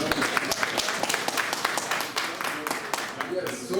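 An indoor audience at a district business presentation claps in a steady, dense round of applause, fairly close, with talking mixed in over it.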